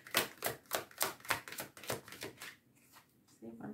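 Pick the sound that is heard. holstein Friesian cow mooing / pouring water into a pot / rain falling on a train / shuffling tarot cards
shuffling tarot cards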